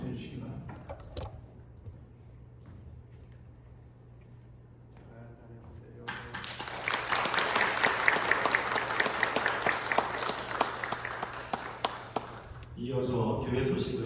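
A church congregation applauds warmly during a Sunday worship service, a sustained burst of clapping swelling after a quiet stretch with a low hum beneath, then fading before a brief return of sound at the end.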